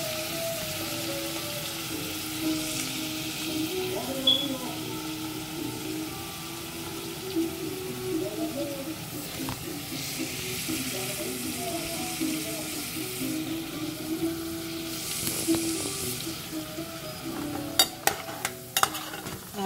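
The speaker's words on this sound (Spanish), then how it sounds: "Ahora lo voy a estar meneando para que no se me queme el jamón" Ham and sofrito sizzle in a pan as they are stirred, a steady low frying crackle with occasional scraping clicks of the spoon, fairly faint and with no talk.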